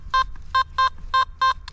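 Five short, loud electronic beeps from a Nokta Makro Simplex metal detector signalling a target, evenly spaced and a little quicker than one per second, with faint outdoor background between them and no speech.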